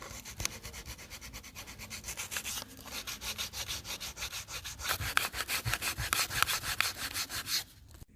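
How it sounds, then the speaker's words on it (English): Sandpaper rubs back and forth over a Bondo body-filler patch covering resin cracks, after chisel work, giving a steady run of close, rhythmic rasping strokes with a brief pause midway. "Now we're going to use the sandpaper after using the chisel."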